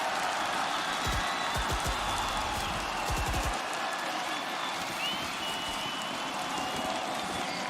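A large esports arena crowd at a Valorant match roars continuously, a dense wash of cheering and applause with some thumping bursts early on, loud and sustained throughout.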